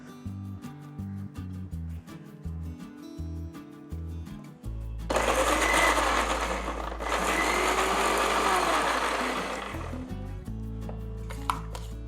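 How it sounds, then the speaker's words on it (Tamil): Mixer grinder blitzing quartered tomatoes into paste for betel leaf rasam: a loud whirring roar of several seconds that starts abruptly, with quieter kitchen noise before and after. "தக்காளியும் நான் மிக்சிலேயே போட்டுக்கிறேன்."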